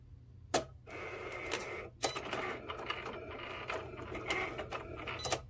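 A Cricut cutting machine cuts a mat with a steady mechanical whir, broken by a few sharp clacks and ticks of the carriage moving, up close under a low constant hum.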